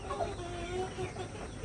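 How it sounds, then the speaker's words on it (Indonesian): Young backyard-bred chicken clucking softly at a distance, low murmuring calls repeating over a steady background rumble. "Ini ayam hasil breedingan saya teman-teman."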